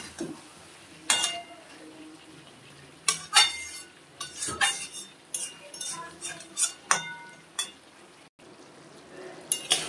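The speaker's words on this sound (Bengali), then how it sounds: "তো বন্ধুরা আমি একটু নেড়ে চেড়ে দেবো খাবার।" A spoon stirs chicken and mushroom curry in a pot, making scattered scrapes and clinks against the metal over a soft background hiss, with quiet gaps in between.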